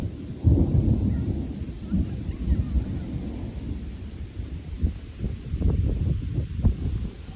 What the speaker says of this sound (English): There's thunder and lightning right now